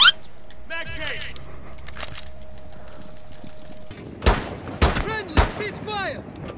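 Gunfire sounds in the video game Rainbow Six Siege. A few sharp, loud shots come late, after a stretch of quieter game sound, and people talk over much of it.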